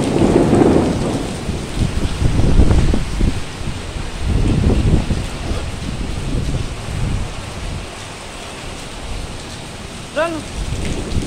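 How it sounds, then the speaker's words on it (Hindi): A storm sounds loud and near, with a steady broadband roar of wind and rain and swells of rumbling gusts; a brief whistling chirp rises near the end. "देखो कितनी आंधी है"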